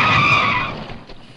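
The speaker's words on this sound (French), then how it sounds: "Dérapage à gauche, dérapage contrôlé." A car skids in a controlled slide to the left, a loud tire screech that holds steady for under a second then fades out, leaving faint engine noise behind.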